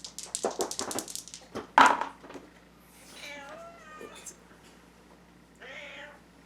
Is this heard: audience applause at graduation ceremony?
no